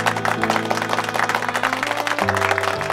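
An audience at a televised beauty pageant claps continuously in dense applause for the final two candidates, with steady music sustained underneath.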